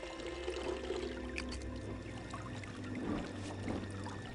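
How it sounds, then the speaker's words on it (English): Water fountain splashing and pouring steadily inside a temple in Indiana Jones and the Emperor's Tomb, with a continuous trickling wash and low rumble, alone with no voices. "There's a water fountain right here again."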